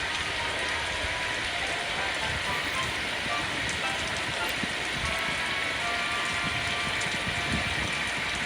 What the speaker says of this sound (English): It had been raining for days and everyone was feeling miserable.